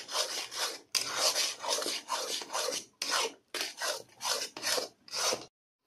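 Semolina dough for rasgulla, with a little salt added, is stirred in a pan with a steady rhythm of about ten close, raspy scraping strokes and no talking.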